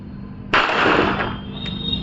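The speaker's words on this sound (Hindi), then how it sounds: "दोस्तों ये पिस्टल कॉक हो गई है और अब एम ले करके फायर करने के लिए बिल्कुल तैयार" One sharp, loud shot from an HPM Hughes .380 ACP pistol bursts suddenly and rings out with a reverberant tail over a steady low hum.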